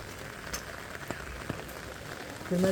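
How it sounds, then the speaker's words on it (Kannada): Steady rain falls on surfaces nearby, a dense even patter with a few louder drops, and a brief tonal hum rises at the very end. "ಮಳೆ ಬರತ್ತೆ ನೋಡಿ ಮಳೆಯಾಗ ಹೊಂಟೇವಿ ನಾವು"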